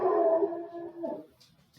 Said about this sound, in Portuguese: Vocês ouviram o cachorro, né?